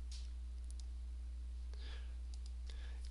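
Computer mouse clicks while working in Microsoft Word, a handful of small crisp clicks spaced irregularly over a steady low electrical hum, with no one talking.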